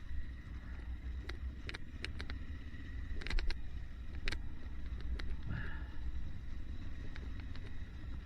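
A Yamaha Tenere 700 World Rally motorcycle ridden off-road on trails, with a steady engine drone and rumble. Wind buffets the microphone throughout, and a few sharp clicks and knocks rise above the engine.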